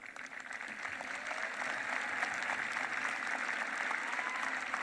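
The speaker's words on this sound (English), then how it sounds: "let's give a big round of applause" Steady, fairly faint applause from a crowd at a high school graduation ceremony, a continuous patter of clapping heard from a distance.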